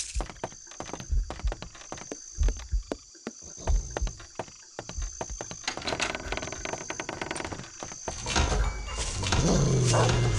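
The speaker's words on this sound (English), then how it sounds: "Oh, those dogs." Dogs in the video game Shadow Man Remastered bark and growl in rapid irregular bursts, loud and close, building into a dense snarling clamor toward the end over a steady game background hum.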